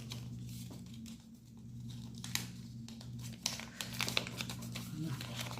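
Paper envelopes for cash budgeting being folded make close crinkling and rustling with a few sharper creases and taps near the end, over a low steady hum.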